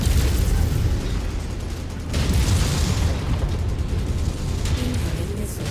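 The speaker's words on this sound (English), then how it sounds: "and we've got artillery now" Heavy artillery barrages in the mech combat game MechWarrior 5: Mercenaries, a continuous roar of overlapping booms and bursts with rumbling low end and several sharper impacts, loud and dense with no voices.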